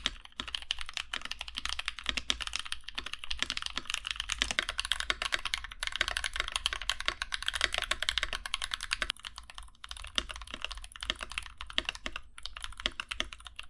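Continuous clacky typing on a mechanical keyboard with tactile Blueberry, Holy Panda and Zealios switches, fast and even keystrokes up close, with no talking.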